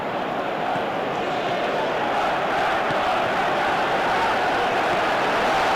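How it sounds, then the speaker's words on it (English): Dense, steady roar of a football stadium crowd in PES 2025 Master League, a broad continuous wash of massed voices swelling slightly toward the end with no distinct talk on top. "you can feel and hear how the crowd are reacting to all of this"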